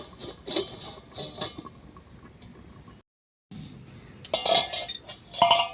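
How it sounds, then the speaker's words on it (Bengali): A lid being set back on a cooking pot of potatoes and shrimp stewing over a clay stove, a few sharp metallic clinks and clatters with a brief silence between bursts. "আবারও ঢাকাটা দিয়ে দেবো।"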